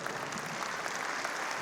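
A crowd claps at a community State of the Community program, a full, steady burst of applause from many hands throughout, with no voices on top.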